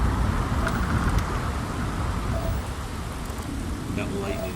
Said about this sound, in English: Oh, shoot, there's lightning in here.